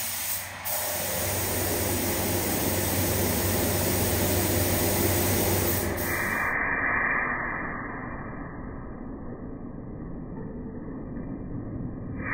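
A spray gun applying candy paint, giving a continuous loud hissing spray that holds steady for several seconds, then shifts to a softer, thinner hiss, with no talking.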